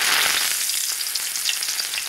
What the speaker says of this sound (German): Und so brutzelt er ein Ei nach dem anderen in der Pfanne.